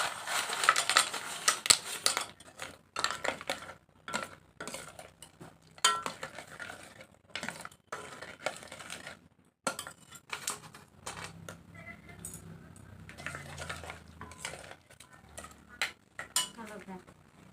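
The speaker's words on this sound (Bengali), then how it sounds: "এখন পায়েসের মধ্যে আমি বাতাসা দিয়ে দিচ্ছি।" Batasha sugar drops drop into payesh in a pot amid clattering of a spoon and utensils, irregular clinks and scrapes in bursts separated by brief pauses, with faint stirring sounds toward the end.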